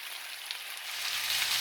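Sliced potatoes and onion fry in a skillet, a close, steady crackling sizzle that builds slightly louder over a short stretch, with no talking.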